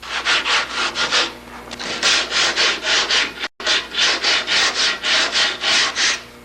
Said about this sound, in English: And as I sand, some of the compression that I have done relaxes.